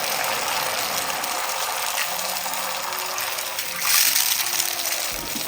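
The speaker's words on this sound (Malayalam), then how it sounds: "ഇനി ബാക്കി വന്ന ഈ ചൂടായി കിടക്കുന്ന നെയ്യിലേക്ക് നമ്മുടെ മുട്ടയുടെ മിക്സ് ഒന്ന് കലക്കിയിട്ട് ഒഴിച്ചു കൊടുക്കാം" Beaten egg mixture poured into hot ghee in a pan gives a steady broad hiss and splashing gush, with a louder surge of sizzling toward the end; no voices.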